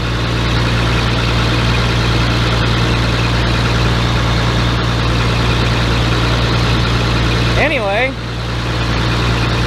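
A White 8700 tractor engine idles steadily after a rollover repair, a constant low droning rumble, with someone speaking briefly near the end.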